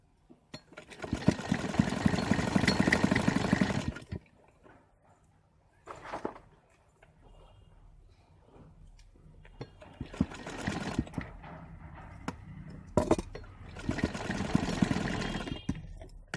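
A sewing machine stitches katori blouse parts in several bursts of rapid, close mechanical whirring, separated by brief pauses and softer handling noises.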